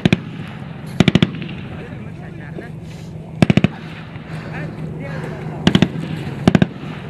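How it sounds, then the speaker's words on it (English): Gunfire exchange between soldiers and insurgents near Arghandab: short sharp bursts of rapid shots come in several clusters, loud and close, over a low background rumble with faint voices. "the combined forces are met by insurgent gunfire"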